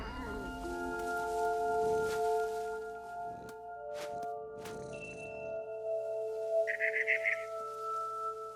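A cat's meow in the video game What Remains of Edith Finch, a short burst near the end over sustained ambient game music and tones.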